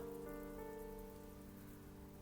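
Heavy rain in a visual novel game, a steady dense wash of downpour on a surface, heard alone with sustained musical tones layered over it throughout.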